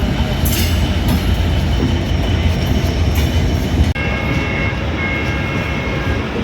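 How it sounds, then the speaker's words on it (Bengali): The Banalata Express pulls away on the rails, a loud continuous rumble of wheels and carriages heard from on board, with faint squeals and murmuring passengers. "বনলত এক্সপ্রেস ছেড়ে দিল"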